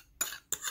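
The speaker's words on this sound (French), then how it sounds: "il faut mélanger le sucre dedans" A spoon clinks and scrapes in a bowl while sugar is mixed into melted butter for matcha white chocolate cookies, two short close bursts of metal on porcelain with no talk.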